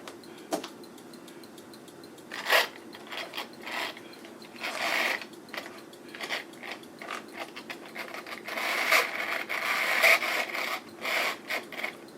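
A small DC model train engine motor whirs and grinds noisily, running poorly, with rattling, clicking mechanical bursts that rise and fall over several seconds.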